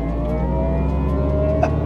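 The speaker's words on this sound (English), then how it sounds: "This is the sound of the synthesized speakers" Synthesized drive sound from a Mercedes-AMG EQS 53 4MATIC+ electric car in Sport Plus mode, played through its speakers: a steady, droning, siren-like tonal hum with layered harmonics, continuous and fairly loud throughout.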